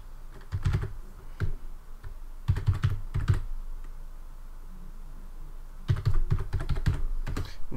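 Typing on a computer keyboard, several rapid bursts of sharp, close key clicks separated by short pauses, with no talking.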